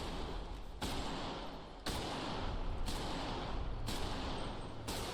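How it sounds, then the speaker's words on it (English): Heavy video game gunfire bursts, loud and continuous, with sharp cuts between several dense volleys of rapid shooting, the sound changing as the shooter moves from outside to inside. "the gunshot smoothly evolves with the environment"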